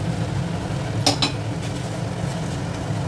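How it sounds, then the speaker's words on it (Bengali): A spoon stirs boiled chicken korma in a pot, giving two quick metallic clinks amid a soft, steady background rumble. "বেশ কিছুক্ষণ চিকেনটা সিদ্ধ হওয়ার পর এইভাবে একটু নেড়ে নেব।"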